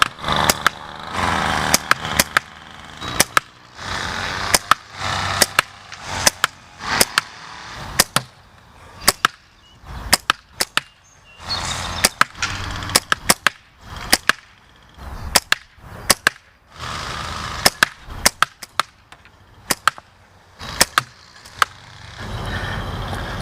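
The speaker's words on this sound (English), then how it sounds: "I'm gonna take 5 shots, 5 targets, another 25 shots" Repeated gunshots at outdoor target practice, loud sharp reports fired in steady strings with short pauses between groups, each crack followed by brief echoing decay.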